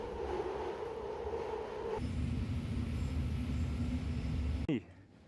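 A train ride back toward the airport, with a steady rumble of rolling stock and a shift in pitch midway, carrying on continuously before cutting off sharply near the end; no talk is evident.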